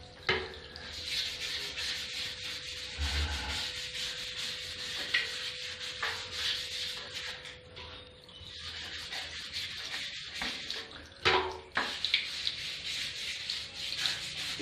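A brush dipped in cleaning solution scrubs limescale from bathroom surfaces, a continuous rough rubbing with rhythmic back-and-forth strokes, close and steady, with a few louder scrapes and no talking.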